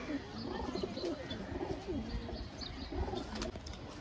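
Pigeons in a home loft give low, rolling coos in overlapping bursts, close and moderately loud, with faint chirps and a busy background.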